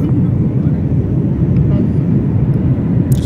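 A steady low roar of engine and airflow fills the cabin of an Air India Express airplane in flight, constant and close throughout.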